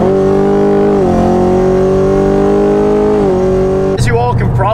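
A Camaro fitted with a Whipple supercharger and a cam accelerates hard, its engine loud and close as a steady, rising roar climbs through the gears with brief shift dips, then breaks up abruptly at the end.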